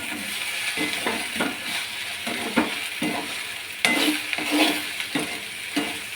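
Okra sautés in a hot pan for a South Indian varuval, a steady sizzle broken by regular scraping spatula strokes about every half second, close and fairly loud.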